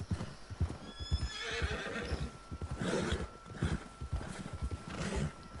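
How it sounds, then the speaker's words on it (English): A horse in the open-world western game Red Dead Redemption 2 gallops with fast, rhythmic hoofbeats and lets out a loud whinny, close and prominent, with no talking. "I'll slow down, tiring the horse out."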